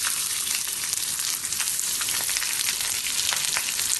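Chopped onion, green chili and curry leaves frying in hot oil in a pan after mustard seeds have popped, a loud, steady crackling sizzle that stays close and continuous with no talk over it.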